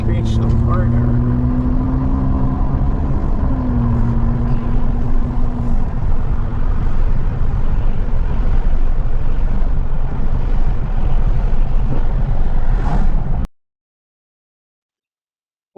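A car drives north on Lake Mary Road through pine and grassland country, a steady loud road and engine rumble with tire noise that holds constant, then cuts off abruptly near the end.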